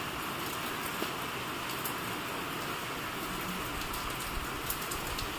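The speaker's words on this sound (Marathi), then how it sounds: "त्यानंतर पाऊस एवढ्या जोरात सुरू झाला, बघू शकताय।" Heavy rain pours steadily on surfaces outdoors, a dense continuous hiss with scattered drop impacts throughout, moderately loud and unbroken, with no voices.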